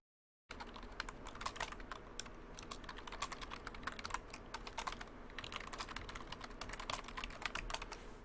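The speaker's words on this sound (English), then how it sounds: "I be careful with the typing because that shit comes out loud." Rapid, steady typing on a computer keyboard, close to the microphone, with dense clicking keystrokes running throughout after a brief silent start; no one speaks.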